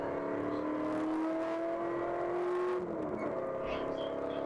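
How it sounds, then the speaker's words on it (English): A ChampCar endurance race car engine at Harris Hill Raceway holds a steady rising drone for about three seconds, then drops off as the car brakes. Other race cars run in the mix, with voices talking over the engine. "Oh, the car sounds so good."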